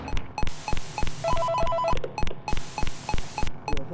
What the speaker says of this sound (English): Oh, and there's a phone call.